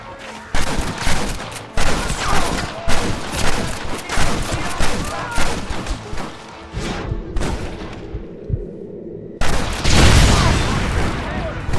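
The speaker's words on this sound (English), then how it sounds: "You man the Gatling gun, Marston!" A Gatling gun fires in rapid, loud bursts in the Western video game Red Dead Redemption, with booming volleys and dense clatter, a short lull with a low rumble, then a fresh heavy burst.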